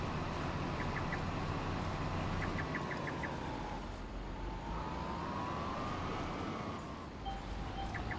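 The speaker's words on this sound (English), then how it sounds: "all these chirping noises is actually the GPS going off telling me that we're getting close to the end of our line" Farming Simulator 25 GPS guidance chirps in short repeated bursts of quick ticking beeps, sounding over a steady tractor engine drone.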